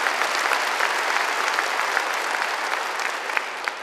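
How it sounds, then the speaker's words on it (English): Audience at a sergeants major course graduation ceremony claps in sustained, even applause, a dense wash of many hands from a large crowd filling the room. "Let's give them a round of applause."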